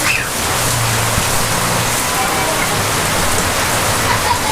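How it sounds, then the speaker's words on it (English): Steady rain pours down in Naga City, Philippines, a dense continuous hiss of drops hitting surfaces, with a faint low hum underneath. "they're taking advantage of all the rain"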